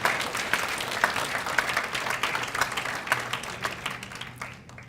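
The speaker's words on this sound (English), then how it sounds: "we'll clap for him anyway" An audience at an annual awards dinner claps for a former club president, producing crisp, scattered applause with distinct individual claps that gradually thin and fade out, moderately loud in a room.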